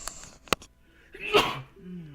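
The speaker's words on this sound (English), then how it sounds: "I gotta sneeze, hold on." A single sharp sneeze bursts out on a live stream, preceded by a couple of short breathy intakes and followed by a brief voiced exhale, close to the microphone.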